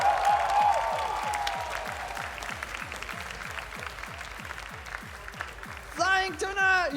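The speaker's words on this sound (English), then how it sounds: "Give a round of applause, please." An esports tournament audience applauds the runner-up at a COE 2023 1v1 final, sustained crowd clapping at moderate level that fades, then a voice speaks over it at the end.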